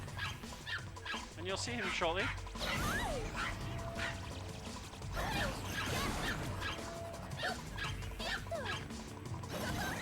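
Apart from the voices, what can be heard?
Pomeranian dog barking in a video game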